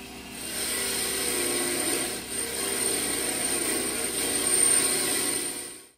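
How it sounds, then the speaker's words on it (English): A variable speed bench grinder with a wire wheel runs at its lowest speed while cleaning bicycle freewheel parts, making a steady whirring drone with brush noise, loud and close, before spinning down at the end. "To clean my parts on a wire wheel, I'm using a bench grinder."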